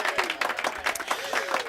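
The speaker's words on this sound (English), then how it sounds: "I need a big round of applause." Brief, fairly faint audience applause during a casual music and talk show, scattered clapping mixed with crowd voices and cheering.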